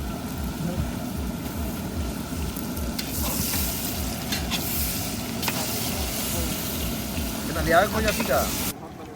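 Mutton fries in hot oil with a steady loud sizzle while a utensil stirs and scrapes the pan, and people talk over the cooking.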